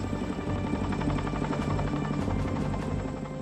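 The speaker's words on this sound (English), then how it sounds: "A Chinook helicopter," A Chinook military helicopter lifting heavy cargo, its rotors producing a loud, close, steady throbbing drone with a rhythmic thump.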